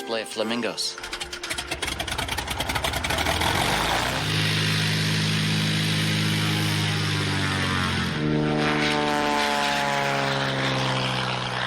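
A propeller light aircraft flies over Kenya's Rift Valley, its engine rattling as it starts up and then settling into a loud, steady droning hum with shifting pitch throughout.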